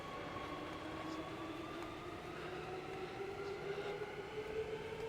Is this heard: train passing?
yes